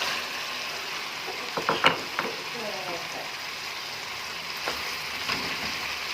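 Boiled drumstick pods stirred into browned chicken in a pot for sohanjna gosht, a few scraping, clinking strokes near the start, then a low steady sizzle.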